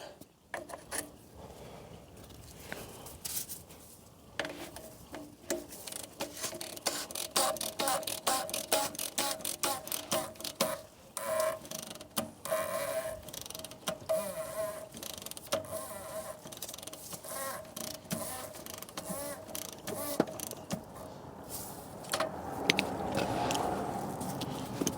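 A ratchet tightens the oil drain plug on a Smart ForTwo 450 with long runs of quick, close clicks, pausing now and then, ending in a quieter rustle with no talk.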